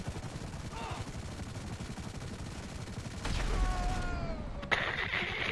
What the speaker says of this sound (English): Explosions sound so much better than in Grand Theft Auto 4 in this game.